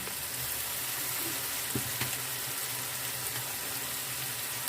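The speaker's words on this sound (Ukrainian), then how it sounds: "Супчик у нас гарненько так кипить." Buckwheat soup simmering in a pot, giving a continuous soft bubbling hiss with faint clinks of a utensil, close and even throughout.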